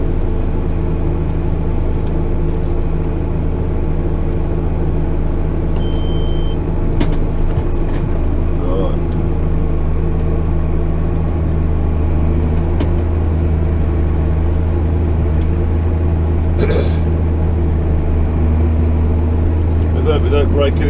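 A model 8250 tractor ploughing a field drones steadily and loudly at close range throughout, its low engine hum holding constant with a few faint clanks over the top.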